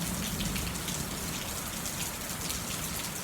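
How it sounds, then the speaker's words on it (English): A soft, gentle afternoon rain shower falls in an even, continuous patter, quiet and steady from start to finish with no voices. "a soft, gentle afternoon shower"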